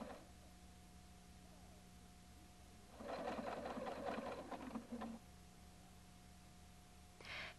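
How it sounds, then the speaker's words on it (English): A Husqvarna Viking Designer 1 sewing machine with the B foot sews a decorative heart stitch, its fast rhythmic needle chatter running for about two seconds, then stopping, with a faint hum before and after. "Select the heart stitch, L7. Snap on the B foot. Sew."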